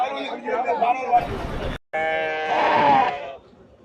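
A ram bleats at the Reddiarpatti goat market, one long, wavering, nasal call midway through, set against a busy crowd murmur and nearby voices talking.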